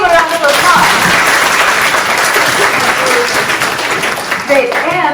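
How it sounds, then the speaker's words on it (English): Sustained audience applause at an information session for a student ambassador program fills the room steadily for about five seconds, with faint voices mixed in near the end. "Can you please give a round of applause?"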